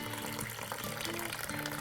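Water pouring into a bowl of bread dough sponge mixture that already holds oil, a short steady splashing trickle.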